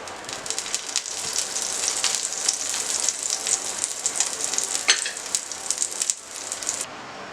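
A sweet potato pancake fries in a pan with a steady, dense crackling sizzle that carries on without a break. Nobody speaks.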